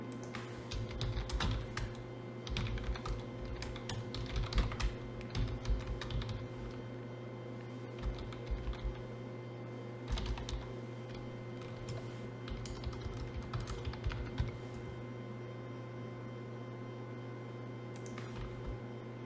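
Typing on a computer keyboard in a terminal, bursts of close, clicky keystrokes with short pauses between, over a constant low electrical hum.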